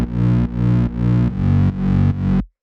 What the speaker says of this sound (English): from the hard shaper just giving it more harmonics, but also you can hear it kind of makes it a bit more lo-fi